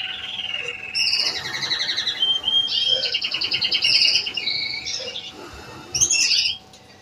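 Pet canaries or goldfinches chirping close by, bright rapid trills and tweets in bursts over a quiet room, with no voices.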